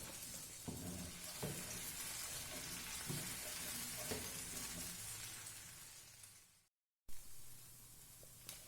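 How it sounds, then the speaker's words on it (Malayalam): Chili paste sautéing in oil until the oil separates, for Szechuan egg fried rice, a soft steady sizzle with a few spoon knocks, a brief dropout of silence near the end, then the frying resumes. "ഇത് നല്ലപോലെ വറ്റി എണ്ണ തെളിഞ്ഞ് വരുന്ന വരെ വഴറ്റി കൊടുക്കണം."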